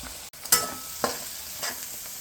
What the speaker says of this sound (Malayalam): അപ്പം ഉള്ളി ഒരു റാഡിഷ് ബ്രൗൺ ആവുന്നത് വരെ നമുക്ക് ഇളക്കി കൊടുക്കാം